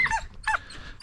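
A hunting dog barks in short sharp bursts during a rabbit hunt in California, three close barks spaced across the moment with a faint growl between them.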